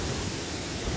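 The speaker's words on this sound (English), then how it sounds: "Little waterfall going down there." A small waterfall in an outdoor woodland setting gives a steady, broadband rushing wash of falling water, even and continuous throughout with no other sounds.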